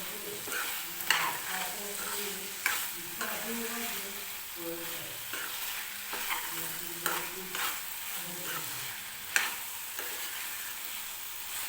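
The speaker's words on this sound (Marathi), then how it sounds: "तर आता मी याच्यामध्ये आपण जे बटाटा वगैरे तेलामध्ये परतून घेतला होता तो टाकून घेते आणि व्यवस्थित मिक्स करून घ्यायचं." Fried potatoes being stirred into masala with peas in a pan for poori bhaji, steady soft sizzling with repeated scraping and clinking strokes of a spoon against the pan, no talking.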